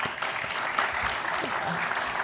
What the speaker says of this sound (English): let's give Hollis a round of applause